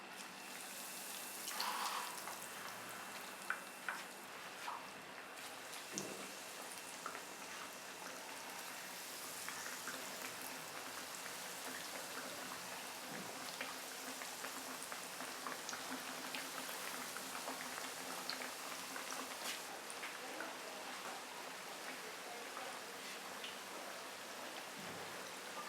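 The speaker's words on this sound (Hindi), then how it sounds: "एक साइड से कबाब फ्राई हो चुके हैं।" Russian kebabs, dipped and rolled in vermicelli, sizzle as they fry in a pan, giving a steady, fine crackle of hot oil that lasts throughout with small pops, and no talking.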